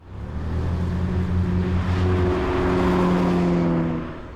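A 2017 Alfa Romeo 4C mid-engined sports car accelerating hard, its engine note climbing in pitch through the revs, loud and close, with a gear change partway through and no talk.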